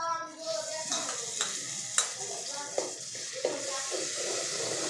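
Chicken curry with tomato puree frying in a pot, a low steady sizzle with scattered clinks and scrapes of stirring, fairly quiet and close.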